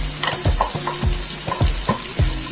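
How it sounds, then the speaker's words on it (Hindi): Ground paste of two medium tomatoes stirred into frying Lahori chickpea masala, a steady sizzle under repeated scraping strokes of a spoon against the pan, close and moderately loud, with no talking. "अब इस टाइम पे मैं इसमें ये टमाटर का पेस्ट भी शामिल कर दूंगी।"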